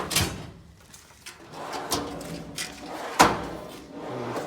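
Drawers of a Snap-on tool chest slide open and shut in a series of sharp metallic clacks and rolling slides, several distinct knocks spaced irregularly, close by with no talk.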